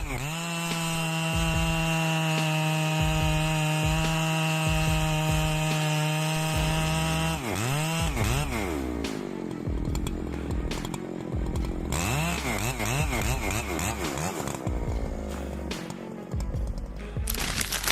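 Husqvarna 3120XP chainsaw, a large professional saw for extreme logging and long bars, cutting wood: a loud steady high-revving whine that shifts into wavering, bogging pitch as the chain bites, continuous and close for the whole stretch.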